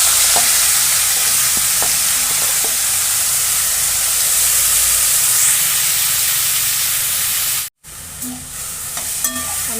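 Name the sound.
spring onion greens stir-frying in oil with garlic and chili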